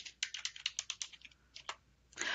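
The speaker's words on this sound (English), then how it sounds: "I'll start by typing my search term here in the search box." Rapid, irregular keystrokes on a computer keyboard as a search term is typed into a database search box, close and clear with no talk, ending in a slightly longer key press.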